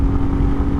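A motorcycle engine running steadily close by, with a continuous low drone and no distinct clunk of a gear change standing out.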